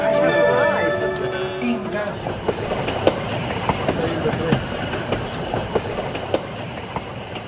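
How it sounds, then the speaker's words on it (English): A narrow-gauge train near Machu Picchu, Peru rolls past with rhythmic clattering wheels and sharp metallic clicks, a broad rumbling wash throughout; people's voices are audible at the start. "The train, love the train coming up here."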